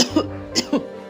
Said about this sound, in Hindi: रात रात भर हरिया की माँ खांसते रहती है।